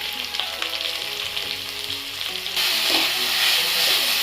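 Onion and capsicum fry in oil for vegetable fried rice, a loud dense sizzle with spatula stirring and clatter that swells louder and hissier partway through, without speech.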